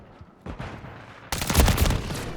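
Gunfire in the Call of Duty shooter, with a pump shotgun in use, breaks out as a couple of sharp reports and then a dense, loud burst of overlapping shots.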